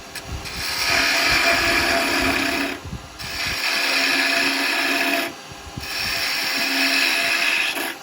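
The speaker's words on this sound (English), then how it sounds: "See, so much better with a spindle gouge." Spindle gouge cutting a small wooden spinning top on a lathe, a steady rasping, whirring cut in three long passes with brief pauses between them, close and fairly loud.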